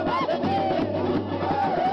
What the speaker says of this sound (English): With brass bands playing loud, energetic music and crowds drinking and laughing.